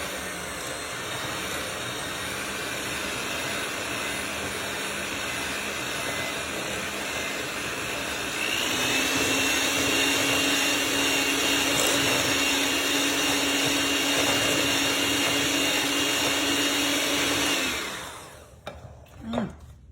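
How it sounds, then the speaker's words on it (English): An electric mixer creams peanut butter and butter together for peanut butter cookies, a steady loud whirring drone that rises in pitch and intensity partway through, then cuts off near the end. "let's cream this peanut butter and this butter together"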